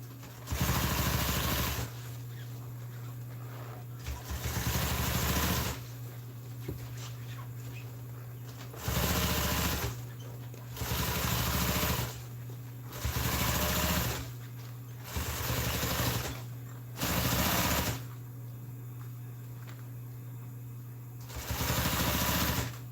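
Domestic sewing machine stitching RV seat upholstery pieces, running in repeated short bursts of steady whirring with pauses between, fairly close and alone.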